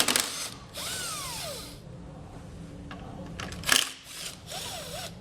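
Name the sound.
power tool with 10mm socket removing bolts from Honda Civic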